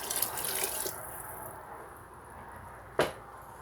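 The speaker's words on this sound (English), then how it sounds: "So basically what I'm going to do is put some water in here" Water runs from a tap into a cooking pot for a jambalaya-style dish with rice, a steady splashing pour that fills the first second and then softens into a quieter trickle, with one sharp clank near the end.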